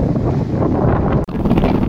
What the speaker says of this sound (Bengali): আপনারা হয়তো ভিডিওতে শুনতে পাচ্ছেন হাওয়ার আওয়াজ